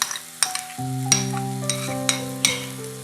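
Yogurt and onion paste frying in a pot for Lahori bong paye, a steady sizzle with stirring scrapes and a few sharp utensil knocks, while a sustained tonal hum holds underneath throughout.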